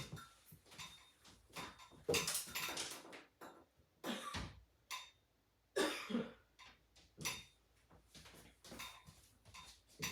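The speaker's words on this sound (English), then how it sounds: "So I just needed to cough." A long series of repeated coughs, some heavy and some lighter, spaced irregularly with brief pauses, close and fairly loud.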